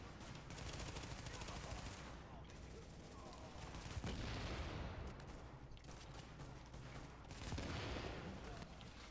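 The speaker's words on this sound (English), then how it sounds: "Shooting those propane tanks like it's my job. This AK is so inaccurate." AK rifle gunfire in The Division, a Tom Clancy shooter, aimed at propane tanks: dense automatic bursts and rattling fusillades fill the span loudly, with someone talking over the shooting.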